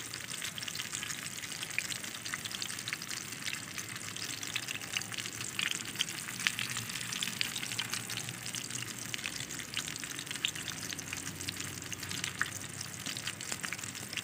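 A large fish, around 2.7 kilos, fries in a pan of hot oil, giving a steady dense crackling sizzle that holds evenly throughout, close and fairly loud with no voices.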